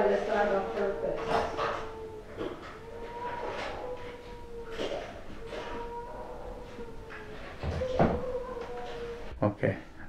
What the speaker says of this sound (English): Okay, that's a dog then.